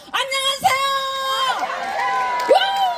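A crowd at a welfare center event with a guest singer shouts and cheers in long, sustained voiced calls that overlap and swell, loud and close, with a few sharper whoops rising near the end.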